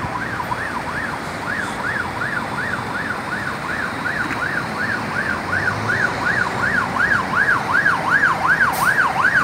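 An ambulance siren wails in a steady rising-and-falling cycle over a constant rumble of heavy truck traffic on a congested road in Vila Prudente, São Paulo, holding loud and prominent for the whole stretch.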